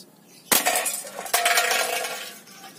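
Two sharp metallic impacts about a second apart as airsoft M4 rounds strike a Bear Brand milk can, each followed by a brief clattering ring, close and loud, with no talking.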